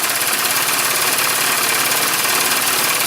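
A Jensen #5 toy steam engine with a riveted boiler runs continuously, a loud, close, steady mechanical chugging hiss with rapid rhythmic pulsing and no talk.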